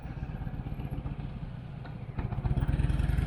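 A Harley-Davidson Low Rider cruiser motorcycle being ridden, its engine chugging in a low, pulsing rhythm that swells louder toward the end, close and alone without talk.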